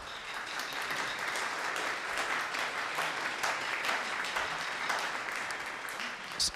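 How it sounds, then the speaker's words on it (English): Audience applause fills a church hall after a brass ensemble concert, steady dense clapping sustained at an even level throughout without a break. "Susie Bell, can we get a round of applause for Susie Bell?"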